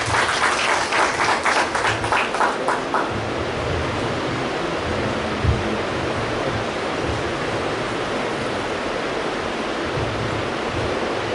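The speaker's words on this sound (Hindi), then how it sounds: "जोरदार तालियों से आरती दीदी का स्वागत है।" Applause from the audience at a Brahma Kumaris Teachers' Day event in Ratlam rises in a burst of clapping for the first few seconds, then settles into a sustained, diffuse wash of crowd clapping filling the hall.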